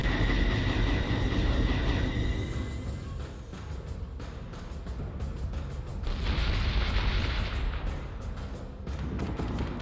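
Naval guns of a warship's secondary battery firing in the Ghost Fleet game, a series of loud booming blasts and crackling reports overlapping in rapid succession over a dense rumbling background.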